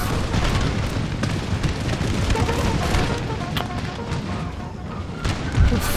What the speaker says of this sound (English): Nice ripple of volley fire there, fantastic to see.